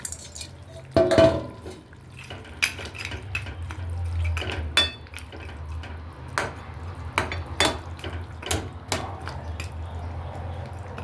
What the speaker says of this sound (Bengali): বড়িটা একটু সেদ্ধ হতে দেবো, ঢাকা দিয়ে দিচ্ছি